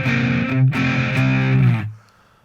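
An electric guitar played through a solid-state amp with gain cranked and a distortion effect rings out loud and sustained, restruck once, then is cut off and fades to quiet.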